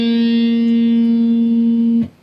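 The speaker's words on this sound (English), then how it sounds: "Okay, so there you have 3 different hammer-ons." Electric guitar ringing one sustained note on the fourth string, clean and steady for about two seconds before being cut off, no talking.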